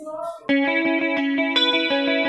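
An electric guitar runs through chorus and delay effects, playing clean sustained notes with shimmering, wavering tails and repeating echoes, loud and up close after a short quieter lead-in.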